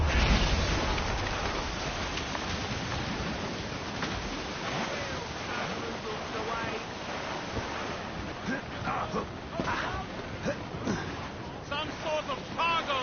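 Rain pours down in Assassin's Creed Rogue aboard a sailing ship, a dense steady wash with wind and sea noise underneath, while voices and sung shanty lines carry over it.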